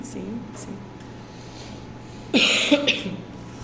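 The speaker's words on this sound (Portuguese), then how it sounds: "tô com essa tosse misteriosa aí também" A single harsh cough bursts out near the end, loud and close, after a stretch of quiet room tone during a podcast discussion of a novel.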